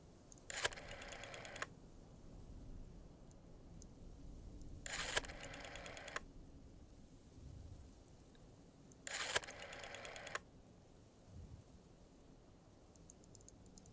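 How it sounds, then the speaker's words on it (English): Phone number being dialed in the video game Obduction, heard as three separate bursts of rapid bright clicking tones, each lasting about a second and spaced several seconds apart, over a low ambient hum. "Dialing phone numbers again."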